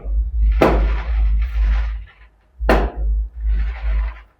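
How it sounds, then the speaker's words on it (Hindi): Firecrackers burst outdoors in two loud, close bangs, each followed by a rolling, rumbling echo that fades over about a second. "पटाखे फूट रहे हैं"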